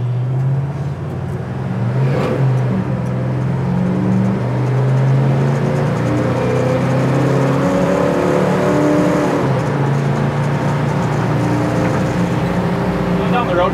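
A 1972 Dodge Demon's engine hums steadily as the car cruises along, with road and wind noise and a slight rise in revs partway through.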